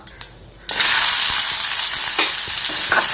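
Sliced ivy gourd lands in a pan of hot oil tempered with mustard seeds and curry leaves, and a loud, sudden burst of sizzling follows a few quiet taps, then hisses on steadily with occasional scrapes.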